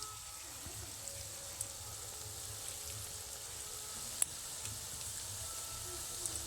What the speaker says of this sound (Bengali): একদমই লো আঁচে এগুলোকে ভাজতে হবে।